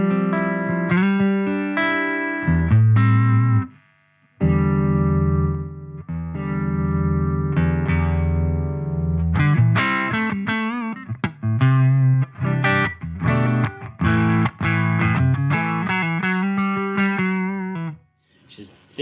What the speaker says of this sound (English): So this is what a Buddha 4x12 sounds like.